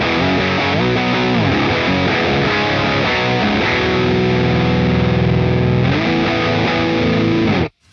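Electric guitar through a high-gain distortion pedal, playing thick, heavy rhythm chords that ring loud and sustained for several seconds before stopping abruptly.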